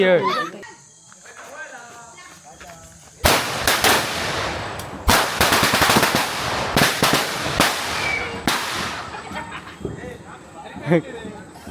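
Firecrackers set off at a village wedding in Konkan, a rapid, loud string of crackling bangs that starts abruptly and runs for several seconds, with people talking before and after.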